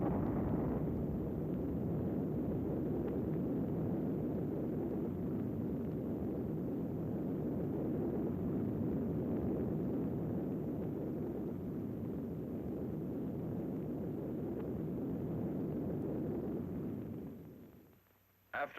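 A 1952 atomic bomb test explosion from Operation Tumbler-Snapper: a loud, sustained broadband roar that holds steady for about seventeen seconds, then fades out abruptly.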